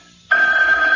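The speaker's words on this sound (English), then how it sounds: "It's the phone." A telephone in a 1980 radio drama's home at 1 a.m. breaks the silence with a sudden loud, steady electronic ring that continues without a break.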